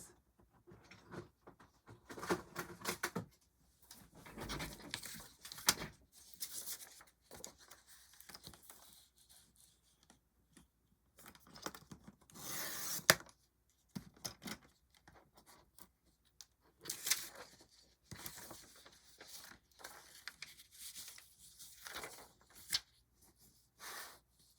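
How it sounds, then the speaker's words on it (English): A small paper cutter slices through paper sheets at a craft table, with repeated scraping slides and rustling handling of paper in bursts, close and fairly quiet. "do I have my little paper cutter nearby? Because I want to trim just a smidge off"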